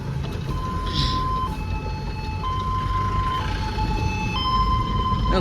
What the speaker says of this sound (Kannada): ಮೂರು ನಾಲ್ಕು ಆಂಬುಲೆನ್ಸ್ ಆಯ್ತು ಇಲ್ಲಿಗೆ ಇದು ಸೇರಿದ ನಾಲ್ಕು ಆಂಬುಲೆನ್ಸು